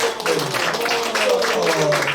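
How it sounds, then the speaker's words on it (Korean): Forum audience applauding at a church leaders' joint forum, a steady wash of clapping across the whole moment with a voice talking over it. "우리 박수 부탁드리겠습니다."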